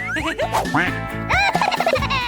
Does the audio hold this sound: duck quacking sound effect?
yes